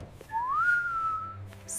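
A single eerie whistle rises and then glides along steadily for about a second in a quiet, echoey school setting, with faint low background noise.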